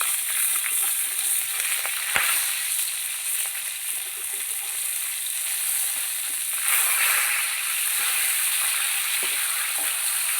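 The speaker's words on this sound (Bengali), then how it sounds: "এই মাছগুলো আমি ভেজে নিয়েছি" Fish frying in a pan, a loud and steady close sizzle lasting throughout with occasional soft clicks and no talking.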